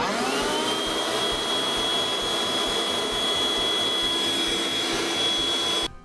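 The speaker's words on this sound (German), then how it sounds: "Hört sich ein wenig an wie ein Staubsauger, ist aber nicht zu laut." A Kärcher WV50 Plus cordless window vacuum's motor whirs steadily with a high whine that rises at startup and holds, fairly moderate in loudness, then cuts off abruptly at the end.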